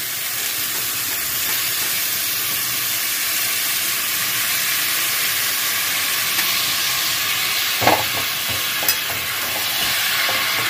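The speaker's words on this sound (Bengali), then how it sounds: "এঁচোড়টা দিয়ে ভালো করে একটু কষিয়ে নিচ্ছি।" A dense, continuous sizzle of boiled young jackfruit frying with spices in a pan, with a few brief scrapes from stirring, and no voices.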